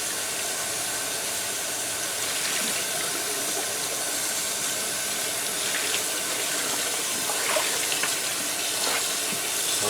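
Tap water runs steadily into a sink while dye is rinsed out of a tie-dye t-shirt, a constant close splashing hiss with no talking.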